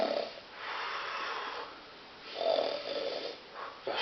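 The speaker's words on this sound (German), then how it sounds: "die schnarcht immer" A person snores loudly in slow, regular cycles, each long rasping inhale followed by a quieter pause, repeated about three times and heard up close with no talking.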